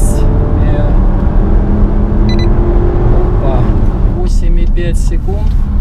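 An SUV in ESP Sport mode launches hard from a two-pedal start, its engine roaring loud and near in a continuous low rumble, with voices talking over it.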